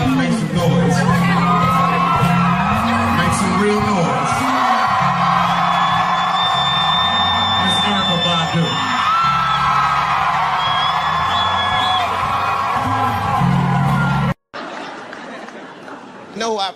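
Comedy show audience cheering, whooping and laughing loudly for a sustained stretch, a dense wall of crowd noise with voices mixed in, then cutting off abruptly near the end.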